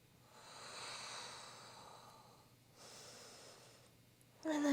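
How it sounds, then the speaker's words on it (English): Two long, slow, deep breaths during a yoga session for martial artists, each a soft airy inhale and exhale, close and quiet, ending with a brief louder sound. "Let's take 2 more breaths."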